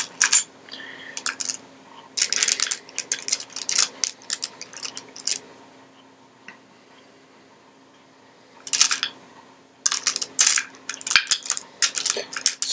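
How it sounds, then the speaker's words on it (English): Plastic Dungeons & Dragons dice, including eight-sided ones, clatter and rattle as they are handled in bursts of close clicking, separated by quiet pauses. "I'm going to get out my Dungeons & Dragons dice."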